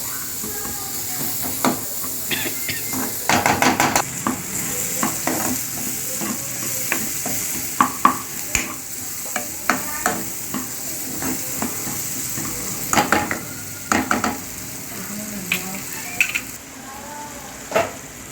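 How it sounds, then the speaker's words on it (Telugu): Onions frying in oil in the same pan used earlier for prawns: a steady hiss of sizzling with scattered scraping and clinking stirs of a ladle throughout, close by and moderately quiet. "రొయ్యలు వేయించుకున్నాం కదా, దాంట్లోనే వేయించుకోవాలి."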